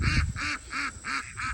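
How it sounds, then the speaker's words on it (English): Ducks quack in a quick series of five harsh, nasal calls, fairly close and loud, with low background rumble between them. "Crazy ducks."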